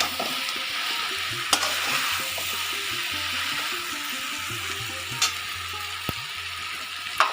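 Tomato paste frying in a pan for Nabaratna Bahar, stirred as it cooks: a steady, close sizzle with a few sharp scraping clicks from the spoon.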